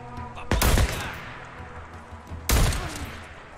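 Two loud, sharp gunshot blasts in the video game Days Gone, about two seconds apart, each followed by a short decaying rumble.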